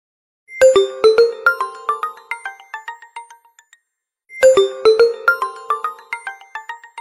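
An HTC phone ringtone: a bright, dynamic jingle of descending chime-like tones, played loud and clear twice with a short silence between the two phrases.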